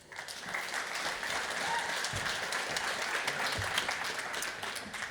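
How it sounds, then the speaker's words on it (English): A crowd at a game developer showcase claps steadily and warmly, a dense, sustained wash of applause that holds at an even level throughout. "A warm applause for multi-award winning"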